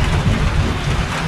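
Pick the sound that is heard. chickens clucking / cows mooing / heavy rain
heavy rain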